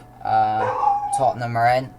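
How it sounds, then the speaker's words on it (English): A dog howls and yips insistently close by, its long wavering tones running under a voice as he talks over it. "Sorry about the dog in the background."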